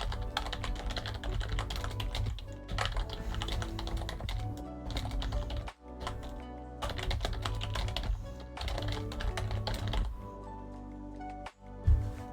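Fast, continuous clicking of typing on a computer keyboard, close and clear, in bursts broken by short pauses, with a louder clack at the very end and no speech.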